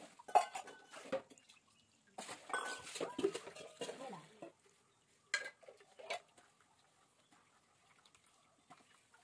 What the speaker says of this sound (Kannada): ಪಾತ್ರೆ ತೊಳಿತೀನಿ ಈಗ